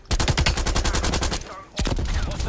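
In Call of Duty Black Ops Cold War, an airstrike lets loose a loud, rapid barrage of repeated booming impacts in close succession. After a brief gap, a heavy blast follows.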